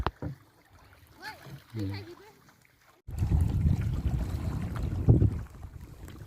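Strong wind gusting over open reservoir water, a steady loud roar of wind noise buffeting the microphone with choppy wave sounds, following a brief stretch of quiet voices and handling noise.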